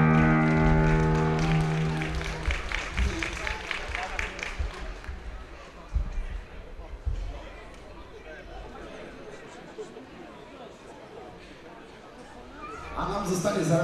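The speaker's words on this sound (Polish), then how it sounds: "Wielkie brawa!" A stadium crowd at an American football game involving the Seahawks claps and cheers after a play, a broad roar that swells, then thins into crowd murmur beneath a commentator talking.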